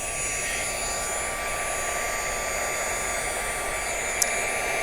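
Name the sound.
heat gun blowing hot air for embossing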